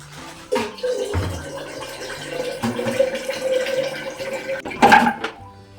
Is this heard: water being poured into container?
yes